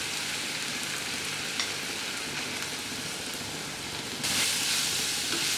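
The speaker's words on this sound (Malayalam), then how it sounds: "ഈ സമയത്ത് നമുക്ക് ഇതിലേക്ക് അരിഞ്ഞു വെച്ചിരിക്കുന്ന തേങ്ങാക്കൊത്തും കൂടി ചേർത്ത് വീണ്ടും നന്നായിട്ട് വഴറ്റി കൊടുക്കണം." Onions and chopped coconut pieces sautéing in a pan for a Kerala prawn roast, a steady close sizzle with occasional stirring scrapes, rising to a brighter, louder hiss near the end.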